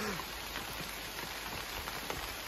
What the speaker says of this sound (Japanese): 急に土砂降りになったしな。